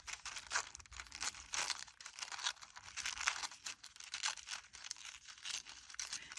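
Thin tissue paper being handled and glued down in strips for a junk journal background, giving close, continuous soft crinkling and tearing rustles with small irregular bursts throughout, no talking.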